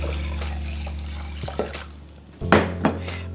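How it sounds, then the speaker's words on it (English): Water poured into a pan holding three cups of rice, a gurgling splash after a steady low hum, followed by a couple of clanks and further sloshing. "I have some water, I pour it in"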